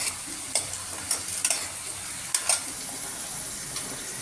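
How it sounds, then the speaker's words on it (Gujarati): Cluster beans fry in oil inside a pressure cooker, giving a steady soft sizzle broken by several sharp stirring scrapes and clinks of a spoon against the metal pot, close and moderately loud. "ગુવારને આપણે આ રીતે ચલાવતા થોડી વાર માટે તેલમાં તળવાનો છે"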